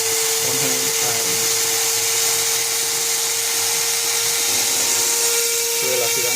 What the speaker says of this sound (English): drill at the angle,